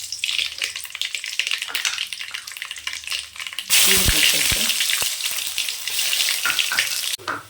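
Urad dal crackles and sizzles in hot oil over a high flame, a loud steady frying hiss that bursts in suddenly partway through, with a few stirring knocks.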